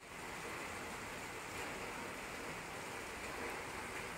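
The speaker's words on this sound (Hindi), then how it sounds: "आज तो सुबह से बहुत बारिश हो रहा है, कभी बहुत तेज हो रहा है तो कभी स्लो हो रहा है" Heavy rain pours down steadily as a dense, continuous hiss with no breaks, close and fairly quiet, with no voices over it.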